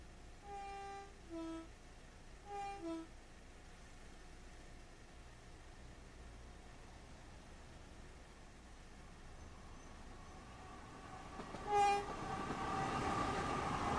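A SouthEastern HighSpeed train approaches a level crossing in Train Sim World 5, sounding a few two-tone horn blasts early on, then a long low rumble that swells to a loud rushing pass at the close.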